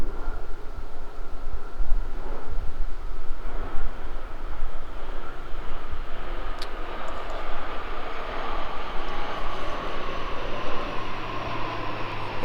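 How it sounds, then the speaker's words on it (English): Propeller or jet aircraft passing overhead outdoors, a steady broad engine drone that holds at moderate loudness throughout with no talking. "And those planes are flying over frequently."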